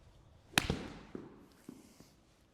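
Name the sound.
golf club hitting a small shot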